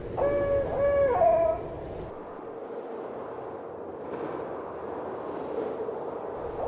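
Snowy owl hooting in a wild northern Norway landscape, a few clear tonal hoots in the first second and a half, loud and fairly close, followed by steady wind or surf noise with no voices.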